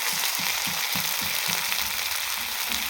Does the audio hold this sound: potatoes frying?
yes